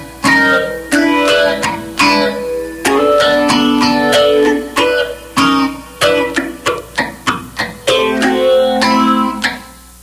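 Funk guitar plays a slow two-bar chord progression, clean stabbed chords alternating with muted scratches and a small pickup, loud and close without any voices.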